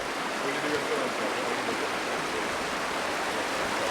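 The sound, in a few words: river flowing past a blockage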